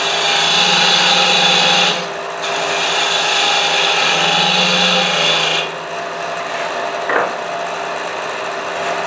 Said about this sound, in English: Parting tool.